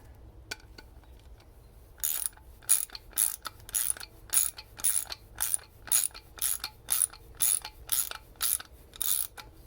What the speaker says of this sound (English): the factory screws are screwing in